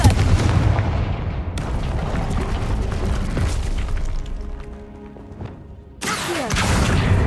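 The Confringo blasting spell in the video game Hogwarts Legacy erupts in heavy, rumbling explosive booms that roll on and fade, then a fresh loud blast hits near the end.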